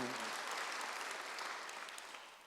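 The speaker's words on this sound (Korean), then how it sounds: "박수 한번 드리세요." A Korean church congregation claps during a Sunday service sermon, sounding as a broad steady wash of applause that opens with a brief voice and slowly fades toward the end.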